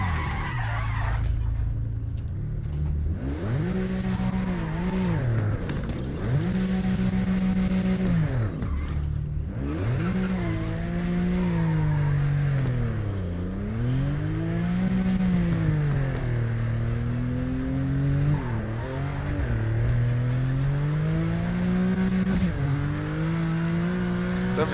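In the Project Motor Racing video game, a GT4 race car engine revs hard through repeated gear changes, rising and falling in pitch, while tyres squeal and skid under loud, continuous in-car engine noise.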